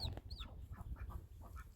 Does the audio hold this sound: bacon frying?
no